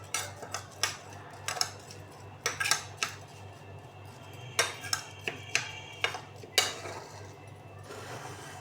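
Chicken seasoned with black pepper and salt is stirred in a bowl, giving a steady run of soft scraping clinks and taps at close range, with no talking.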